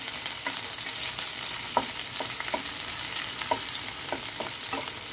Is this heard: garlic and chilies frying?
yes